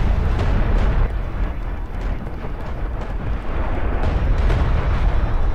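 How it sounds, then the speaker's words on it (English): An artillery barrage in the strategy game Homeworld: Deserts of Kharak produces a dense, continuous rumble of overlapping explosions, heavy and loud throughout with no clear pauses. "the barrage was definitely targeted too far over to this side"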